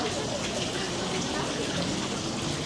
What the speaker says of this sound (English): It's called Rain Report, and it mimics rainfall